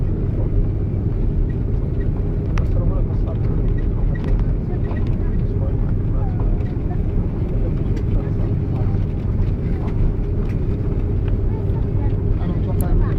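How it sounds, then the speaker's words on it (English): Emirates Airbus A330-200 taking off from Amman, a loud constant deep engine roar and rumble heard from inside the cabin, steady throughout. "Takeoff from Amman to Dubai."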